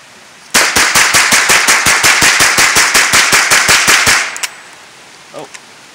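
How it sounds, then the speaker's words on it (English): A Ruger firearm fired at a target downrange pops off about twenty rapid, evenly spaced shots over several seconds. The string stops abruptly, followed by quiet with a few faint knocks. "I'm shooting a Ruger mag at a target downrange."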